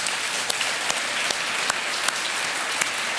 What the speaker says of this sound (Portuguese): aplaudir a Jesus por isso?